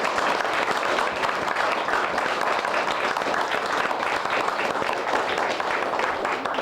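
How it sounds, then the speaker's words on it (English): Historical society audience gives a round of applause after a talk on Civil War music, loud, dense and continuous clapping from a crowd, unbroken for several seconds. "Again, let's have a good round of applause."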